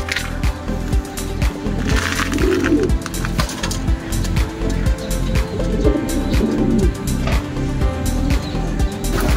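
Racing pigeons coo softly and repeatedly nearby, low murmuring calls overlapping amid a busy background of rustling and rhythmic clattering.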